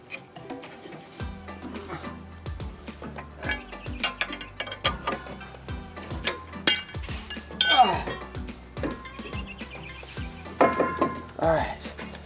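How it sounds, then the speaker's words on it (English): A pry bar works a brake caliper off the rotor during a brake pad job: irregular metallic clinks, scrapes and ratcheting clatter, close and uneven, with a few louder knocks and grinding bursts near the end, over faint background talk. "you may have to get a pry bar like this and pry them open. Pry the caliper off of the rotor."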